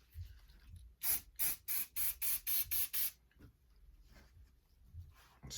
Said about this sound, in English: You spray this down.